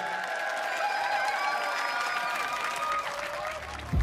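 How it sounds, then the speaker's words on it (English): A studio audience at a Robot Wars series 9 heat claps and cheers in steady, dense applause for the victorious robots, with a sustained crowd roar and whistles holding throughout. "Give them a round of applause."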